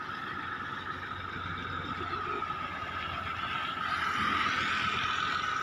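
A tractor engine runs steadily in a field, a continuous rumbling drone that swells slightly louder toward the end, with no voices over it.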